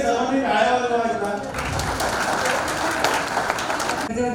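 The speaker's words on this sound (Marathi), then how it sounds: "सर्वांनी टाळ्या वाजवायच्या" Clapping from an audience at a franchisee meeting in Sambhaji Nagar, a dense wash of many hands that swells after a moment, rolls on for a few seconds and then stops abruptly, with voices heard alongside.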